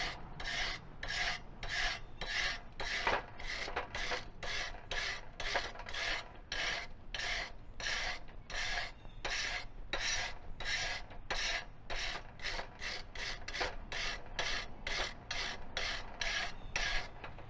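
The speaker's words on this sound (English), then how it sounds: "try the manual brush, and we're just going to try and take a little bit of rust off the edge here" Hand wire brush scraping rust from the edge of a steel piece before MIG welding, in quick, regular one-direction strokes, about two per second, close up and steady throughout with no talking.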